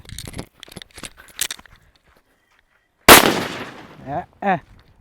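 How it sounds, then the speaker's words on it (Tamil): A sharp, loud blast from an 'elephant' firecracker bursts suddenly after a quieter stretch of crackling, followed by a fading rumble and a few short voices nearby. "நாலாவதாக யானை வெடி தாங்க இருக்குது இப்போ இதை வந்து வெடித்து பார்ப்போம்"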